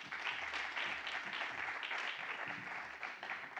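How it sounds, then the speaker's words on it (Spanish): Audience applause at a sustainability forum in the Basque Country as a speaker is welcomed, steady dense clapping filling the whole stretch at moderate level with no talk over it. "Bienvenida, Irache, un aplauso."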